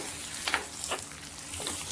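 Hot tempering poured into erissery, a Kerala pumpkin and coconut curry, giving a few brief bursts of sizzling over a quiet hiss with no talk.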